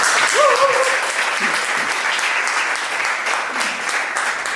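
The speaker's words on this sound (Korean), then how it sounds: "큰 박수로 더 큰 박수로 맞이해주십시오" Sustained applause from an audience at a coworking demo day, welcoming a startup founder to the stage, steady and dense throughout, with a brief voice or whoop rising above it early on.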